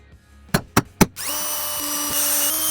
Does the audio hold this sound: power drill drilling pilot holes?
yes